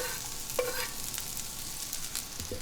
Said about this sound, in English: So let's get our garlic and shallots in.